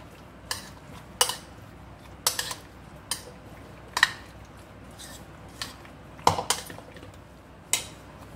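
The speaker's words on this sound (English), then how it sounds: "Now I will just mix them" Mixing ingredients in a bowl for a home cooking competition dish, with a utensil giving irregular sharp clinks and scrapes against the bowl, spaced bursts close up with quiet gaps between.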